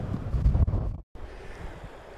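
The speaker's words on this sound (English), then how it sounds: "The waves behind me here in the sea are actually generated by the wind." Wind-driven sea waves surge and wash near the shore while heavy wind buffets the microphone. The sound is loud and broadband and breaks off briefly partway through.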